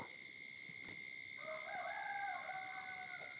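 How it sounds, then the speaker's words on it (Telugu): Rooster crowing with rising, drawn-out calls, steady background insects or birds chirping throughout, fairly close and clear. "కోళ్ళు అరుస్తున్నాయి"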